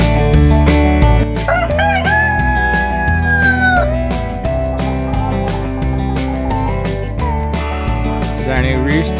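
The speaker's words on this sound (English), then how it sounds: "Is our new rooster" A rooster crows on a winter homestead in a long, drawn-out call over a dense, steady musical backing that plays loudly throughout.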